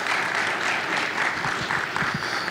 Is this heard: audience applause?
yes